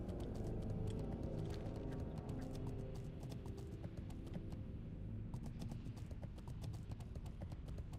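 Horse mount hooves in World of Warcraft TBC Classic: a steady, fast clip-clop of galloping hooves running throughout, close and continuous over a dense game soundscape.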